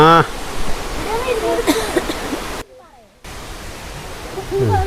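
A forest waterfall roars as a steady broad rush, loud and close, while people talk over it; the sound briefly drops out for a moment midway before resuming.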